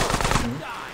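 Rapid automatic gunfire from GTA San Andreas Definitive Edition, a loud close burst of several quick shots that cuts off about halfway through, leaving a fading tail.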